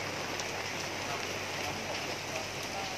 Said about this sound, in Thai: ฝนยังไม่หยุดตกนะครับ